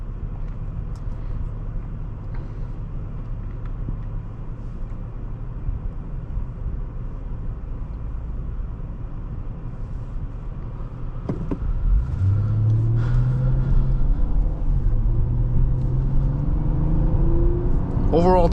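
A 2016 Honda Accord EX-L V6 cruises with a low, steady engine hum inside the cabin, then the engine revs up sharply partway through, rising in pitch as it accelerates and shifts gears, with talk over the drive.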